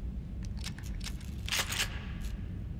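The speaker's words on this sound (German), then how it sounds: "So, Schrotflinte überprüfen." Shotgun being checked in the survival horror game The Evil Within: a quick series of faint metallic clicks and clacks over a low background hum, close and quiet, with no talk.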